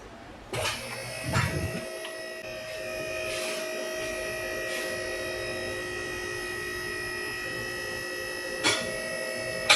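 A cordless Craftsman power tool fitted with a 13/16 socket runs with a steady, high, whining electric buzz that starts abruptly and holds at an even level for several seconds, with brief clunks at the start and near the end.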